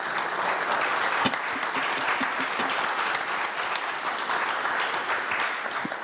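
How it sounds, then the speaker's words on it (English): A conference audience applauds steadily, with dense, sustained clapping from a sizable crowd that carries at an even level from start to finish. "please give a round of applause to them"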